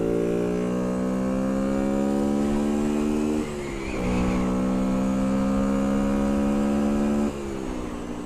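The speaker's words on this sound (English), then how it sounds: "there are cars in this lane behind me." Steady hum of cars driving along a downhill lane behind a moving 50cc Bullit Hero motorcycle, a continuous engine drone with shifting pitch and a brief change midway, with no talking.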